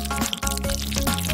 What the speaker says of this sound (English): Just don't forget to add the water.